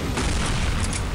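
A loud, dense bazooka blast in the shooter game Counter-Strike: Condition Zero, a continuous roaring burst of explosive noise that fills the whole moment, close and booming with no pause.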